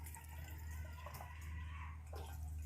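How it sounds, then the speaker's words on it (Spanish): Hot water poured through a funnel into a thermos makes a steady, close splashing gush that runs for the whole short stretch over a low hum. "Primero el agua caliente"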